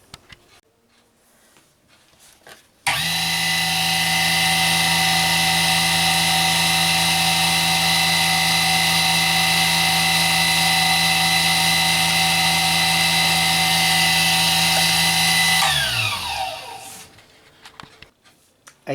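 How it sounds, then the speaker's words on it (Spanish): A DC electric motor on a speed controller switches on abruptly, holds a steady high-pitched whine with a low hum for about thirteen seconds, then cuts off and winds down in a falling tone. "Lo que voy a hacer ahora es energizar el motor, hacerlo funcionar"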